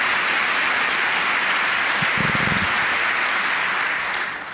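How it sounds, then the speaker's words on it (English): A live audience applauds steadily through a political speech, with dense, even clapping that fills the whole stretch and fades slightly at the end. "Sorry, I didn't cut out the applause."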